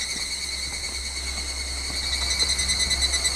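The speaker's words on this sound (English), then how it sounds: "they don't sound like the cicadas in any other part or any other cicadas I've ever heard" Cicadas near Magome in Japan drone in a continuous high-pitched, steady buzz, loud and unbroken, with a faint low hum underneath.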